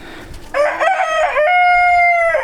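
A rooster crows from a backyard chicken coop near a greenhouse, one long, loud, close call that rises and holds steady for about two seconds before cutting off, with no talk.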